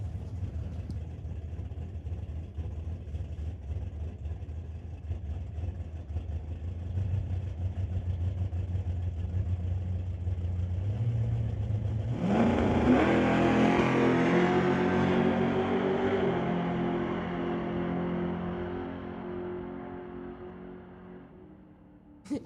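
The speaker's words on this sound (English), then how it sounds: "in the Pump Fuel Ritchie Racing Engines Induction Solution Green Light Auto Financing 71 Nova, running a 632 big block Chev" A 632 big block Chevy engine in a 1971 Nova door slammer drag car idles with a deep, lumpy rumble, then roars into a loud full-throttle launch that fades as it pulls away down the track.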